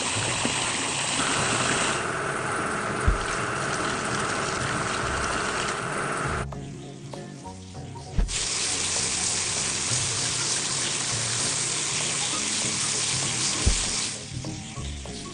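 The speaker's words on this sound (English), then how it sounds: "We need to wash the locomotive." Water sprays and splashes steadily over a locomotive being washed in a children's train video game, a continuous hissing wash with brief breaks and a few soft thuds, no voices.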